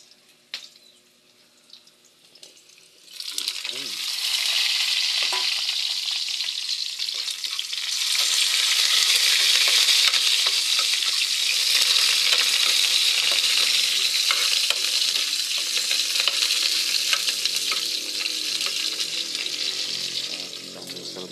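Onions hit hot oil in a pan for bulanglang with squash and water spinach, breaking from near silence into a loud, steady, close sizzle that swells slightly and holds.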